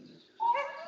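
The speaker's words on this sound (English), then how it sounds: "Excuse the dogs." Dogs on a home training call give a short whimpering bark or yelp, a single rising tonal cry that is fairly close and clear, with no talk over it.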